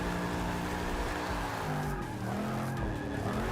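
A Chevrolet Camaro Z28 drift build slides in the Forza 6 video game, its tires squealing in long wavering howls over a loud, steady engine roar throughout. No one speaks.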